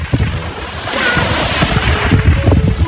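Sea waves wash and surge along a beach under steady wind noise buffeting the microphone, with low rumbling swells rising and falling throughout.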